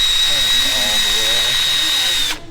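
Power drill spinning a homemade blender, a loud, steady high-pitched whine held for about two seconds before cutting off abruptly, with faint voices underneath.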